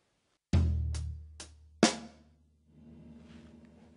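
Linear drum pattern played one note at a time across a floor tom, hi-hat and snare drum: four sharp close hits with a booming low tom, then a softer, quieter ringing tail with no talk.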